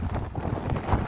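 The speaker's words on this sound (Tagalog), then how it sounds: "Ay, ang lakas ang hangin." Steady, loud wind buffeting the microphone, a low rumbling roar with gusty surges throughout and no other clear sounds.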